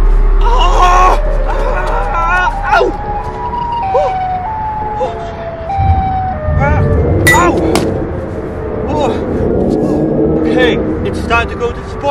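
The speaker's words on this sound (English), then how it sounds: "Sirens." A wailing emergency-vehicle siren, part of a comedic megahorn-versus-megaphone skit, rises and falls through the clip, mixed with loud voices talking and shouting over it, with a clang near the middle.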